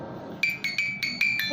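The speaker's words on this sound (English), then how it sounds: "this is a close-up view of this musical box" A small musical box with a roller plucking metal pins plays a tinkling melody, its bright plucked notes starting after a short quiet lead-in and ringing out one after another, close and clear.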